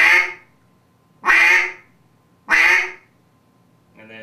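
Three loud, close quacks on a Duck Lander duck call, evenly spaced about a second apart, with the start of a fourth at the end, each a sharp burst that quickly trails off, heard alone.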